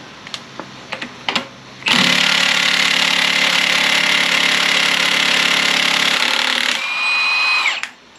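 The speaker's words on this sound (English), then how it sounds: "that's why you want an impact gun" An impact gun hammering out the harmonic balancer bolt on a 3800 Series V6 runs as one loud continuous rattling burst of about five seconds, after a few light clicks, then winds down with a rising whine.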